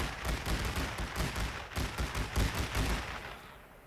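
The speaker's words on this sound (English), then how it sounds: "Okay, so that gunfire is coming from here." Dense, rapid bursts of video game gunfire from The Great War: Western Front crackling continuously, like a distant battle with many shots overlapping, fading slightly at the end; no talking.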